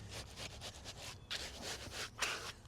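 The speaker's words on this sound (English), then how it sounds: "I'm going to use this wooden trowel to get it close to the edge" A wooden trowel scrapes and rubs across wet concrete in a slab form with repeated soft gritty strokes, close and fairly quiet, no voices.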